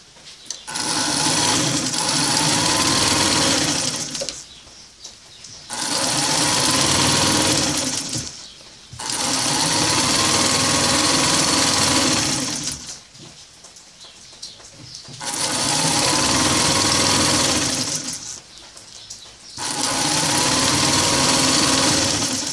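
A domestic sewing machine stitches the seam of an envelope pillowcase in four loud bursts of steady whirring, separated by short pauses. No one talks.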